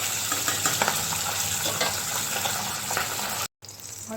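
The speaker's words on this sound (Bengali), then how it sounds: "মাছ আমি একটু লাল করে ভেজে নেব।" Fish being browned in hot oil in a kadai for a fish jhal curry, a continuous loud sizzle and crackle of frying with occasional stirring, heard alone with no talking.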